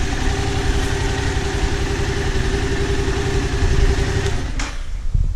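A 2016 Yamaha FZ-07 motorcycle engine idles with a steady low rumble and a constant hum, close up, ending with a brief sharp click near the end.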